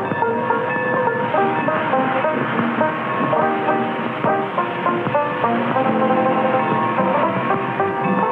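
A narrow gauge train runs steadily with a loud rumbling roar and rhythmic clattering of wheels on the track.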